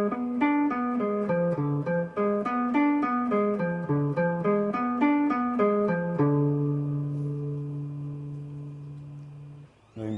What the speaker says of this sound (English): your arpeggios should sound like this